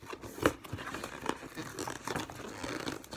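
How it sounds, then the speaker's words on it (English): A cardboard box is torn open, with its tape and packing crinkling, in a string of short ripping and crumpling bursts, the loudest early on, at close range. "Someone is gonna rip the box."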